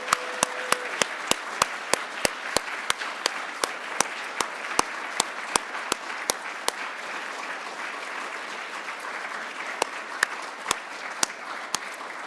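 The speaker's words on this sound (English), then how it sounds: "please join me in one more round of applause for our 2022 award winners" Applause for 2022 academic staff excellence award winners at an evening ceremony, a steady wash of crowd clapping with sharp, regularly spaced claps from one nearby pair of hands cutting through for the whole stretch.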